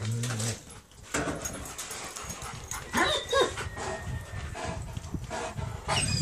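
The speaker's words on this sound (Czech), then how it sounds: "Je tam pes." A Tibetan mastiff-type dog in a kennel whimpers and gives short barks and yips, close and fairly loud, with the whines rising and falling over several seconds.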